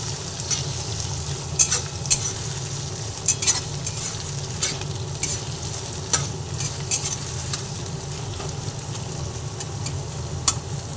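Chopped onion frying in oil in a pan while being cooked for capsicum chicken, a steady close sizzle with periodic scraping and clicking strokes of a spatula.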